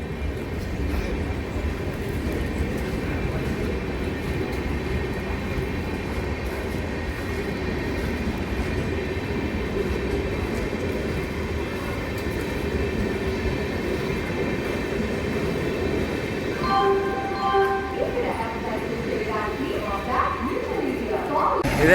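WAP-7 electric locomotive hauling the Venkatadri Express at Chittoor station, a steady low rumble of the train with faint wheel and rail noise, continuous and moderately near, with a few brief tonal squeals toward the end.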